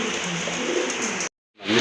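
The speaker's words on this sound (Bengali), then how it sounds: "খুবই সুন্দর এক জোড়া কবুতর দেখেন" Pair of pink-beaked pigeons at a wholesale pigeon market cooing steadily up close, a soft continuous rolling coo that stops briefly before resuming.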